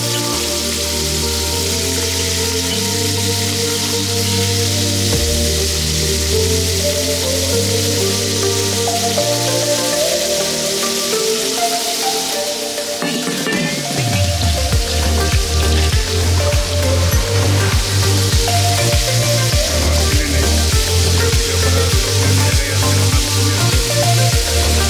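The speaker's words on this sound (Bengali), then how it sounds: "এটা ওই তেলে, আগের তেলে চিংড়ি মাছগুলো ভেজে নেব" Shrimp rubbed with turmeric and salt fry in previously used oil, giving a steady rain-like sizzle and crackle that runs throughout under continuous background music.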